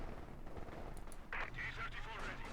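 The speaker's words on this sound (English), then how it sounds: "a bit of a shootout there between PFC and Bulat" Company of Heroes 2 gameplay with a muffled, distant-sounding gunfire exchange in a faint battle mix, partly obscured by a low broadband rumble, with a caster's voice speaking over it.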